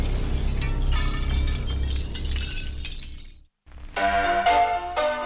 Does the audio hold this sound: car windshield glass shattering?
yes